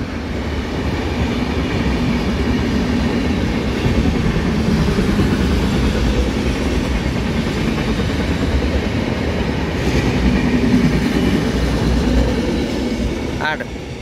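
A train rolls steadily along the railway in Tulu-speaking coastal Karnataka, a continuous loud rumble and rattle of wagons lasting throughout, with a brief high squeal near the end and voices faintly mixed in.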